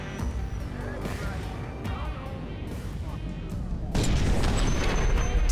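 A grenade goes off in Watch Dogs amid ongoing gunfire and rumbling combat noise. The sudden loud blast lands near the end and leaves a dense roar, with a voice talking over the din.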